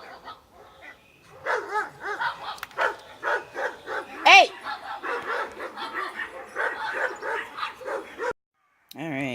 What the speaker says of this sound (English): Dogs went bananas, and the neighbor's dogs